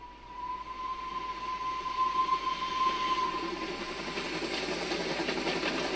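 A train travelling on rails as a story sound effect, a steady rumbling rush that builds slightly and holds at an even level, with a faint whistle-like tone running through the first half.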